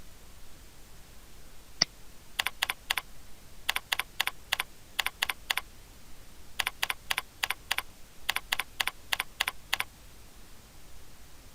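Answers being typed on a computer keyboard into security question fields: quiet, crisp key clicks in three quick clusters separated by pauses, with a single click before them over faint background hiss.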